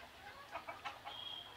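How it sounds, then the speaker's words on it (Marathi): Free-range desi village hens cluck in a few short, close bursts, followed by a thin high tone against a quiet farmyard background. "हे जे तुम्ही बघत आहे प्युअर गावरान कोंबडी आहेत"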